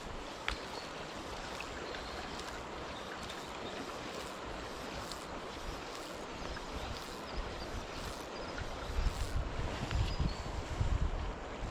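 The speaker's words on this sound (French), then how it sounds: "Oh, le vent, il va m'emmerder." Steady outdoor wind noise rushing across the microphone while fly fishing, with a louder gusty buffet toward the end and faint splashing of water underneath.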